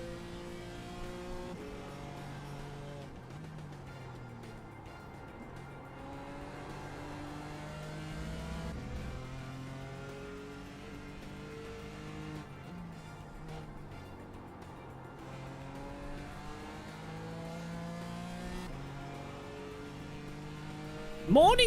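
A race car engine in the iRacing driving sim revs and climbs repeatedly through the gears, holding a steady, fairly quiet drone that rises and falls over the whole stretch.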